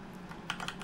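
Quick keystrokes on a computer keyboard, a short burst of light, close taps with no talking.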